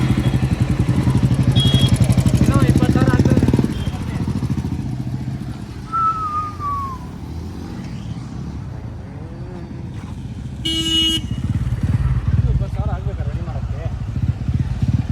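A Jawa motorcycle engine idling nearby at a steady rumble, a little louder at the start and near the end, with brief clinks and a short beep over it.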